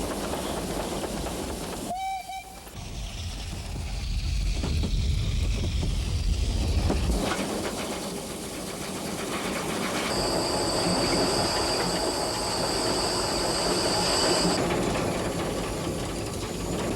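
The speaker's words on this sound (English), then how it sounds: "the train attacked the steep climb towards Chemnitz" A small Saxon steam locomotive hauls its train up a steep, wet grade toward Chemnitz: a short whistle sounds early, then a steady, heavy rumble of wheels and rail noise with a higher metallic ring near the end, and no talking.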